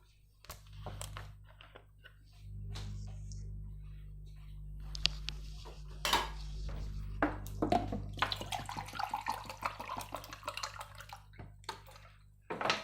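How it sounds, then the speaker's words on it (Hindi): About a glass of water poured into a cooking pot of meat, onion, garlic-ginger paste and black pepper on a stove, a soft splashing pour with drips and clinks of handling, moderately faint. "एक गिलास के आसपास हमने पानी डाला।"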